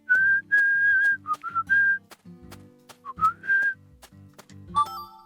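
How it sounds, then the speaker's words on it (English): A character in the video game Deadly Premonition 2 whistles a melodic tune in clear, sustained phrases, loud and close, over quieter game background sounds and footstep-like thuds. "He whistles the song now."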